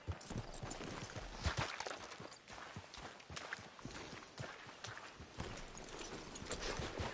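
Horse hooves clip-clopping at a walk in Red Dead Redemption 2, a steady, rhythmic series of soft, fairly quiet hoofbeats that continues throughout against faint background ambience.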